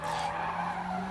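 Tires squeal in a sustained, loud screech as a tuned car drifts, the skid holding steadily for about a second with engine noise beneath.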